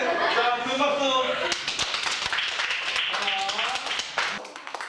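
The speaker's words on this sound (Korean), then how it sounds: "자, 큰 박수." After a voice speaks, middle school students in a classroom break into scattered, uneven clapping that lasts a few seconds, with a voice talking over it and the claps thinning out at the end.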